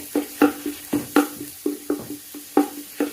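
Onion and garlic sautéing in a pan, with a rapid series of close, crisp scraping stirs over a light sizzle, each stroke distinct and fairly loud, no voices.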